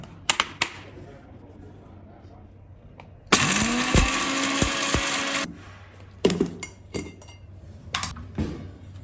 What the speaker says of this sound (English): Now blend everything.